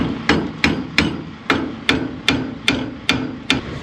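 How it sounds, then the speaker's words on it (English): Repeated hammer blows against a rusty, seized steering knuckle on a Kenworth truck: nine sharp metallic strikes at a steady, roughly even pace, loud and close, with no talking. "Maybe I'll smack it with a hammer a few times,"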